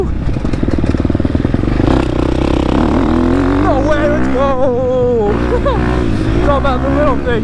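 A 2023 KTM 250 SX-F motocross bike runs on a track, its engine droning steadily and climbing in pitch through several revs and shifts, close and loud throughout, with a rider's voice briefly heard over it.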